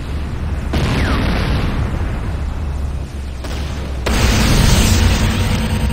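A GDI weapons factory blows up in Command & Conquer Renegade, a loud, sustained rumbling explosion with a fresh burst partway through that pushes the roar even louder, no voices over it.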